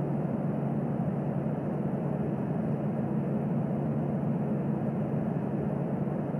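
A Boeing 787-8 airliner taxiing in the Infinite Flight simulator game in bad weather, a steady low engine drone and broadband rumble holding constant throughout, with no voices.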